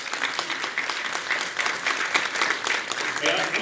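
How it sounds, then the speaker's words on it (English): An audience applauds at a June 2019 public meeting, steady continuous clapping that fills the short clip at close, loud level. "give it a round of applause"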